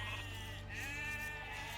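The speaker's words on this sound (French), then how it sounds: "Vous voyez là il y a un mouton au passage, et ils sont toujours par deux les moutons." Sheep bleating in the strategy game Age of Empires II, a steady, close bleat held across the whole moment over a low droning game backdrop, with no talk.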